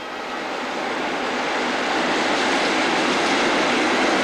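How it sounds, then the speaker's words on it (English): Passenger train hauled by a Class 37 diesel locomotive passing through Severn Tunnel Junction marshalling yard, a steady broadband roar that builds gradually and stays loud throughout, with no voices. "Here we see a passenger train passing through, and usually hauled by a Class 37."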